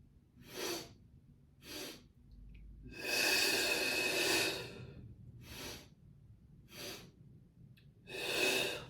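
Rhythmic breathing during a floorwork exercise: a series of audible breaths, short sharp exhales alternating with longer drawn-out breaths, close and fairly quiet with no talk.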